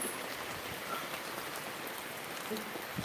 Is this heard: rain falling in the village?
yes